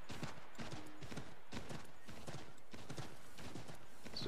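Horse galloping in Assassin's Creed III across the open frontier, a steady rhythmic clip-clop of hooves repeating in quick bursts, close and loud throughout.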